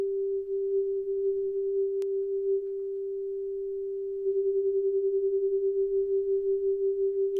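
A steady pure synth sine tone hums alone; partway through, unison with slight detune is added and it starts to gently pulse and waver as detuned copies beat against each other.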